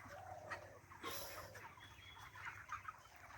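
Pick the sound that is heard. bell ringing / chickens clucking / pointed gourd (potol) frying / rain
chickens clucking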